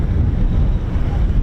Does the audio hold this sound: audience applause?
no